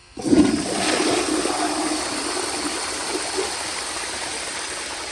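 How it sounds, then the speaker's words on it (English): A 1951 Crane Neuday toilet fed by a flushometer flushes with a sudden loud rush of water. The rush settles into a steady, gushing flow that slowly tapers toward a trickle, heard close up with no talk. "But here is a flush."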